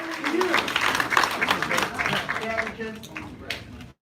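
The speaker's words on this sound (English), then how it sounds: "Big round of applause." Round of applause at a post-fight boxing press conference, a crowd clapping steadily amid talking voices before cutting off abruptly.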